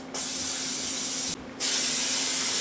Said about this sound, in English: Make sure we spray the heck out of that thing.